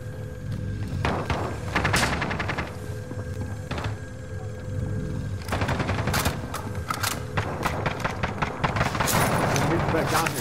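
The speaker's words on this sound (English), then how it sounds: "Receiving hostile fire." Video game gunfire rattles in dense automatic bursts, with thuds and booms under it. Distant bursts in the first half give way to louder, closer volleys near the end.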